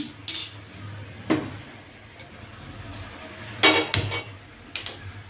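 A freshly washed metal cooking vessel is handled in a home kitchen. Close, sharp clinks and clanks come in scattered bursts, with quieter gaps of faint background hum between them.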